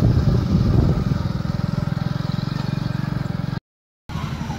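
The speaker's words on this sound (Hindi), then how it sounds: "यहाँ से मोटरसाइकिल निकल रही हैं" A motorcycle engine putters steadily along a muddy, marshy dirt path by the Kosi river near farmland, a close, rhythmic chugging at moderate volume that cuts out briefly near the end.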